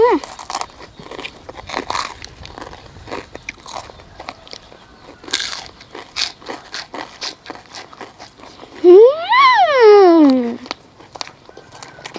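Crunchy pork rinds eaten with fried chili dip: sharp close-up bites and crisp chewing crackles come in scattered bursts, with a voice talking between them.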